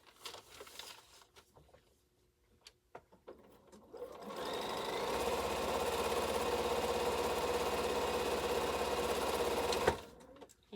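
Sewing machine stitching a string quilt block, running steadily and continuously for about six seconds at close range after a quieter stretch of handling sounds, then stopping abruptly.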